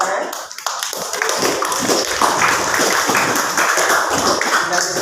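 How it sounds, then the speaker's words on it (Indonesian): A classroom group claps after a student presentation on prayer steps, with brisk uneven hand clapping that runs steadily under and alongside voices. "tepuk tangan."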